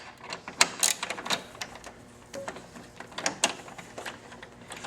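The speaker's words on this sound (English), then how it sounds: "you're just going to want to loosen those bolts up" Metallic clicks and ratcheting from an Allen key loosening and removing 6mm Allen bolts on a Victory Vision motorcycle during air filter access, with irregular close taps and scrapes and no speech.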